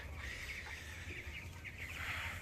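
Chickens cluck softly and steadily while feeding on grain on a foggy day, amid a low background hum, with no talking.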